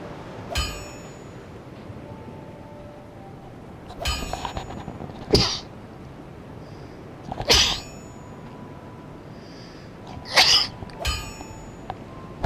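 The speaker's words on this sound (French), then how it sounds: "Excusez-moi, j'ai éternué." Sneezes and cough-like bursts, several sharp isolated blasts spaced a few seconds apart over quiet room tone with faint game sounds between them.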